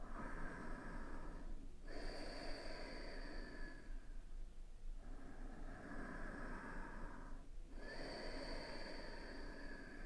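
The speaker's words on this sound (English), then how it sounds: "Keep the sound of that Ujjayi breath going." Slow, deep Ujjayi yoga breaths with a soft hissing, ocean-like rasp roll in and out in a steady rhythm, close and continuous, with no talking.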